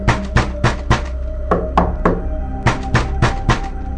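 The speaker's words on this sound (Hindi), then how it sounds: "लेकिन दस्तक तुरंत सामने के दरवाजे पर लौट आई।" Repeated knocking on a wooden front door, in loud sharp bursts of several raps, with short pauses between the groups, close and alone with no talking.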